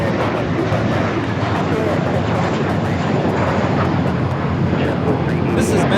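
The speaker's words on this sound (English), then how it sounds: "This is Menta Fresca taking off to Boston, JetBlue 1388, A321." A JetBlue Airbus A321 takes off at LAX, bound for Boston, making a steady, broad engine roar with wind buffeting that holds at a constant level.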